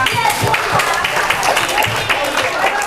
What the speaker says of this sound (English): Give yourselves a big round